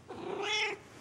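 A cat gives a single short meow, close and clear, rising and falling in pitch over a quiet background.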